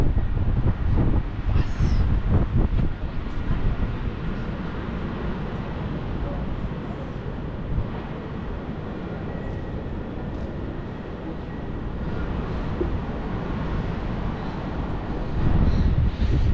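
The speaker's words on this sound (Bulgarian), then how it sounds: "Тук вятъра шуми." Wind blowing past a tall office tower amid large business buildings, a steady broad rushing roar with gusty buffeting at the start and end, continuous throughout.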